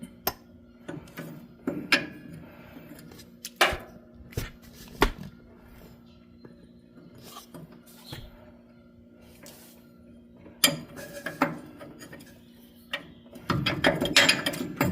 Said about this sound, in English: I might just use a regular wrench at this point